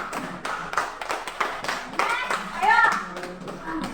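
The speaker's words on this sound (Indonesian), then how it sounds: "Ya, tepuk tangan untuk kelompok." Classroom applause from a group of students, a short burst of hand clapping mixed with children's voices and chatter throughout.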